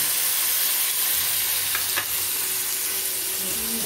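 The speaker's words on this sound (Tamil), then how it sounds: "இப்போ நம்ம வெங்காயத்தை கொஞ்சம் போட்டுக்கலாம்." Onions fry steadily in hot oil in a pan for a kanava (squid) fish kulambu, a loud continuous sizzle and hiss with a couple of brief stirring scrapes near the middle.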